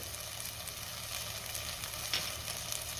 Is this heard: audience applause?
no